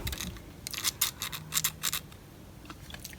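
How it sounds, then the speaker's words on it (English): Decal edge scissors snip the rough edges of a decal in a quick series of crisp, close cuts, bunched into bursts with short pauses between. "So luckily I've got these scissors,"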